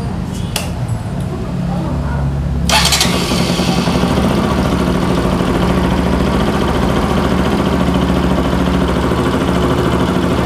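A motorcycle engine with a faulty oxygen sensor starts after a few seconds of background noise, then settles into a steady, loud idle close by.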